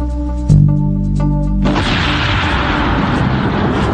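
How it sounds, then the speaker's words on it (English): A HARP gun, a huge cannon built to launch a small two-stage rocket, fires with one sudden loud blast that swells into a long, rumbling roar sustained to the end, with no voices. "He would launch a small rocket from the cannon."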